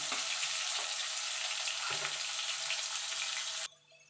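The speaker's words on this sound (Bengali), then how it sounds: "এবার এই তেলে আমি আলুগুলো ভেজে নেব।" Potatoes frying in hot oil, a loud dense crackling sizzle heard close and steady for several seconds before cutting off abruptly, with faint clinks and no talk.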